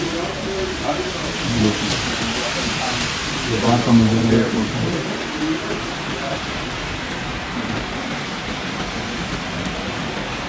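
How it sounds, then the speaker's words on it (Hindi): Steady night rain falls outside Vancouver airport, a constant hiss that sits under someone talking close by throughout. "स्टिल बारिश हो रही है।"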